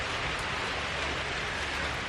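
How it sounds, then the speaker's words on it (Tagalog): Steady rain falling on a farm after a full day and night of downpour, a dense, even hiss with no breaks and no voices. "Maghapon pong umuulan kakabsat simula kagabi."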